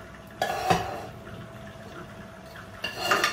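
Dishes and pans being washed in a home kitchen, with a few sharp clinks and clatters near the start and end over a low steady background wash of water and handling noise.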